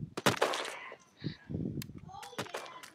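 Sharp, quick gunshots from the online shooter game Shell Shockers crack in short bursts, mixed with someone talking over the gameplay.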